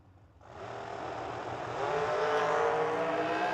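Dragster race cars at a drag race. Near-silence gives way to an engine that kicks in suddenly and swells, growing louder and more forceful as it revs.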